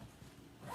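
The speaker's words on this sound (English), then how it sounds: "And then you zip this shut," A zipper pulled shut on a scrapbook retreat bag, one short quiet zip running close by with no talk.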